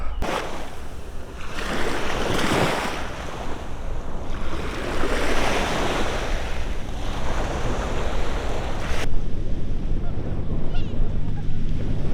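Sea waves along the Polish coast breaking and washing in repeated surges, mixed with gusty wind noise on the microphone, loud and close throughout.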